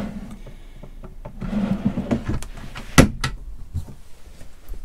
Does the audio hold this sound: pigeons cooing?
no